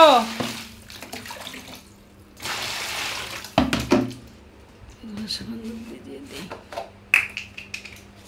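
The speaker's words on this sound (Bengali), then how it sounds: "কাপড়টি একটু ভিজাবো, এখন ভিজে দেই" A soiled baby's cloth is being soaked, with short bursts of splashing and running water from a tap. Clatter and knocks come between them, and a person talks over it.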